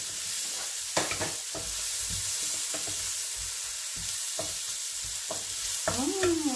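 Onion and garlic sizzle and crackle in hot oil in a pan, a steady close frying hiss with repeated stirring scrapes and clicks throughout, no voices.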